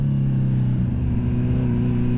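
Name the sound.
sport bike engine revving with Dominator exhaust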